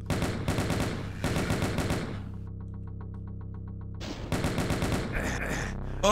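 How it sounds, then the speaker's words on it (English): A chaingunner enemy in the game Mysterious Mansions fires two loud, rattling bursts of rapid shots, separated by a quieter stretch of steady hum, with no voices. "He's a very accurate chain gunner, that one."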